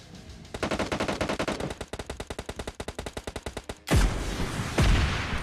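In a video game, a rapid burst of automatic gunfire rattles for several seconds, then two heavy RPG rocket blasts boom out in quick succession, loud and close, with no voices.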